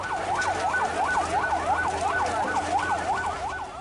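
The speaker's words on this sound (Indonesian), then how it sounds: "Belasan mobil pemadam kebakaran dikerahkan untuk memadamkan api." Fire engine sirens wailing at a shop fire on Jalan Minangkabau, Manggarai, Jakarta, a loud rapid up-and-down siren sweep repeating steadily, close by, over low traffic rumble, with no talk.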